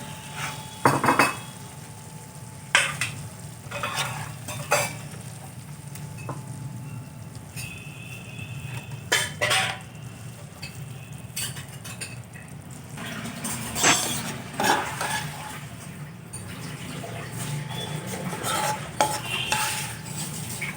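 A spoon scrapes and clinks against a pan and bowl as dry fish egg curry is scooped out, irregular metallic knocks and scrapes over a soft background hiss, close by.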